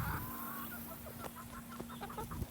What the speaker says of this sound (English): Everyone knows that you're a rooster.